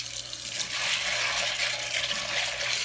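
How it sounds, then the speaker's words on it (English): Water running over pinto beans being rinsed in a bowl, a steady splashing and pouring close by. "So give them a very good rinse each time."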